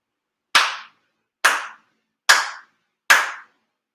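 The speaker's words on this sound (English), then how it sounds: "4 sincere claps." Four sincere ritual hand claps at a Shinto-style Tenchi Kane no Kami monthly ceremony, sharp and evenly spaced about a second apart, each ringing briefly in a reverberant hall with silence between.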